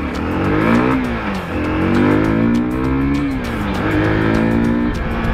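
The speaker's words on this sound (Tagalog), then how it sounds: "Pero malakas yung arangkada niya mga brothers, no?" FKM 3GP car pulling away hard from a standing start on a street, a loud, close engine roar rising through the revs with audible gear changes and pitch climbing again after each shift.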